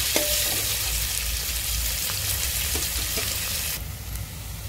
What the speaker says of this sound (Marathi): आपण ह्याच्यामध्ये कांदा परतून घेणार आहोत